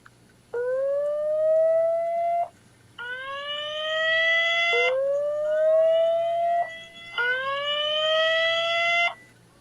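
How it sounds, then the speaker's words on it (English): Siren from a Vimtag 3K security camera wails in repeated rising sweeps, alternating between two tones in a loud, close cycle of four bursts with brief gaps between them. "There's an alarm."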